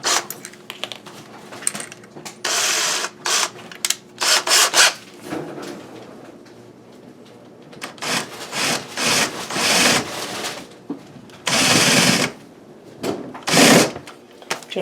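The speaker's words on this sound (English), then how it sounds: "you can just use a drill bit to just put a little bit of a groove in here to countersink the head" A drill bit countersinks a screw hole in a kitchen base cabinet, giving short repeated bursts of close, loud grinding and scraping on wood with pauses between them.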